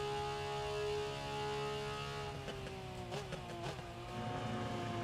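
GT3 race car engine in the RENNSPORT racing game, a steady high-revving drone with sharp gear-shift dips and blips partway through, heard alone without any talking.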